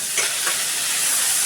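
Sliced onion and long green chillies fry in a pan, producing a brief, even, close hiss of sizzling oil with no voices.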